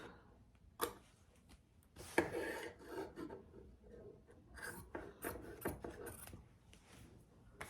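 Scissors snip away excess interfacing from a beginner sewing bag, a series of short crisp cuts and rasping rubs at close range, scattered irregularly and fairly quiet, with no talking.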